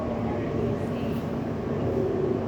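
Inside a new Elizabeth line train running between Abbey Wood and Canary Wharf, a steady low rumble and hum of the moving carriage continues evenly, with a muffled voice underneath.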